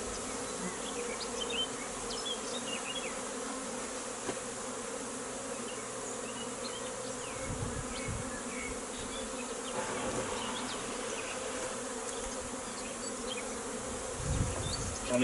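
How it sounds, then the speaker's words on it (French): Dense, steady buzzing of many honeybees around an open hive during a spring inspection, a continuous drone with individual bees passing close, faint handling noises underneath. "Les abeilles rentrent dans les cadres."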